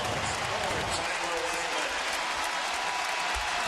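A basketball arena crowd at a Butler versus Providence game roars in a loud, continuous wall of cheering and applause, with an announcer talking over the noise.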